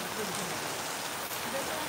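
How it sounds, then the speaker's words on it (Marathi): Heavy rain falls steadily on a rural village, a dense continuous hiss with no breaks through the whole stretch. "तुमच्या कृपेने आम्हाला भरपूर पाऊस चालू आहे"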